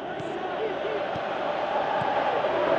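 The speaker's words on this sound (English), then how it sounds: "Crowd appreciates good football all round there." A football crowd in the video game PES 2018 roars in a steady, dense wash of cheering that holds throughout, with a few brief thuds.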